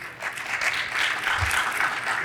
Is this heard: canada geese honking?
no